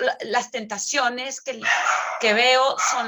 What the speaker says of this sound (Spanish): ay, perdón por el perro